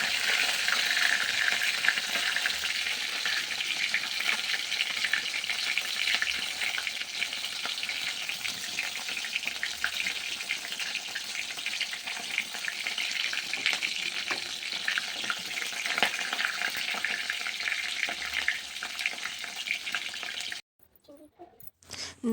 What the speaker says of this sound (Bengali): এদিকে মাছের যে মাথাটা ছিল সেটাও ভেজে নিচ্ছি।